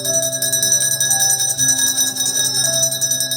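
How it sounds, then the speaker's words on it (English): A sustained, bright metallic bell rings continuously at a primary school, marking the hourly change of lessons, with a steady shimmering tone and no talking. "The bell rings. It does so every hour, every day."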